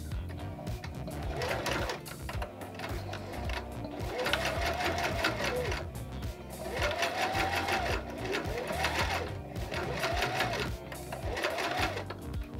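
A sewing machine stitching a lace front wig back and forth, a close, steady mechanical whir in repeated bursts, with the motor's pitch rising and falling as it changes direction.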